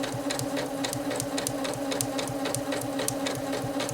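A Janome 8077 sewing machine stitches fabric, its needle thumping in a fast, even mechanical rhythm over a steady motor hum, close and continuous.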